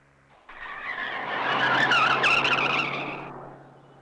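A speeding car skids with a long, loud tire squeal that swells in the middle and then fades, accompanied by engine noise and a steady low hum underneath.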